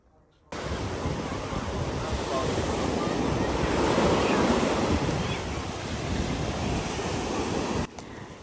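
Waves break and wash continuously onto a beach by a wavy sea, a steady broadband roar that swells around the middle, with wind buffeting the microphone throughout and no other sounds.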